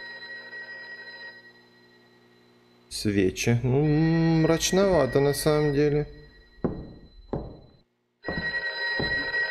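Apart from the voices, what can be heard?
telephone ringing in the horror video game DRUNKOFF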